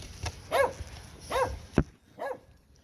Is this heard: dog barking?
yes